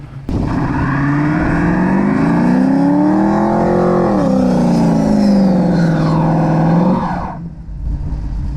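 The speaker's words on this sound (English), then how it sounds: "We're gonna do a little burnout." A Ford F350 truck with a big block 460 engine roars through a burnout, revving hard and holding a loud, rising engine howl for about seven seconds before dropping off.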